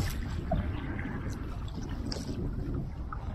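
A kayak moving across De Ruyter Lake, with soft paddle splashes and water lapping over steady wind buffeting the microphone, fairly quiet and without voices.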